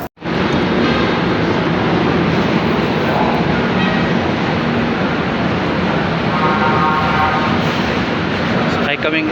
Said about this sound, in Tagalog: Sakay kaming MRT.